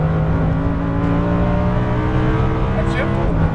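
A Lamborghini Huracan engine accelerating hard on a race track, heard from on board as a loud, steady revving drone that climbs in pitch, with an instructor's voice talking over it.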